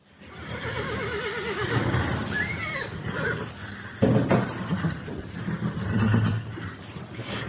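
A horse gives a loud, wavering whinny close by, followed by snorts and further shorter neighs over several seconds.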